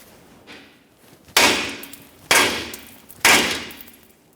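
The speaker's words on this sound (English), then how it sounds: "Otherwise, just use a hammer along this area." Three sharp metallic hammer taps on the outer tie rod end of a 2004-2008 Ford F-150, evenly spaced about a second apart, close and loud, each with a short ringing decay, after a faint softer knock.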